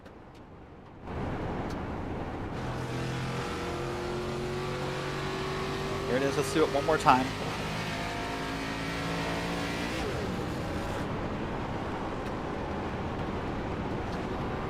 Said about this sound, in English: Let's crank up the motor for a second, see if we can hear it.